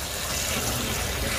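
Water from a tap is poured over frozen shrimp to thaw them, making a steady, close, broadband gush that lasts the whole short moment without speech.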